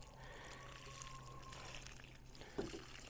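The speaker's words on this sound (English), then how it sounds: "going to put water around it." Water is poured around plants in raised garden beds, giving a soft, steady trickle against quiet outdoor background, with a brief splashy burst near the end.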